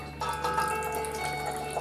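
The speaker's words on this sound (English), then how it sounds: "pour in half a glass of water." Half a glass of water is poured into a pot of melted duck fat while cooking a traditional cassoulet with duck confit, a short, close, steady trickling splash that starts abruptly and continues evenly.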